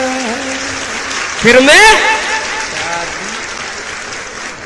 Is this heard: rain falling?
no